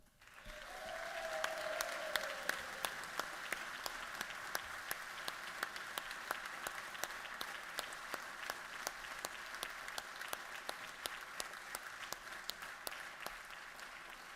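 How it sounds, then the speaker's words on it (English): An audience applauds standing National Guard members at a state legislative session, a dense steady wash of clapping with louder individual claps punctuating it, sustained throughout at moderate volume. "we give you a round of applause and show you our appreciation for what you do every day for us"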